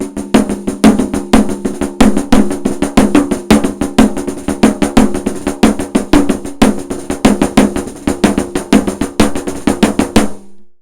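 Snare drum picked up by a contact mic at 0 dB gain with no input attenuation, a rapid, steady roll of loud, close hits with harsh, clipped peaks, continuing alone for about ten seconds before stopping abruptly.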